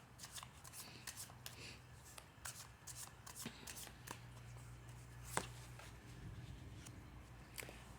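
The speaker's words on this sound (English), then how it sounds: "I'll move along and put the cards down" Tarot cards are laid down on a table in a quiet room, with repeated soft slaps and light shuffling snaps, one sharper tap standing out midway.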